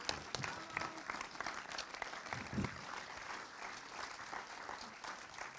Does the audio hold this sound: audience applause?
yes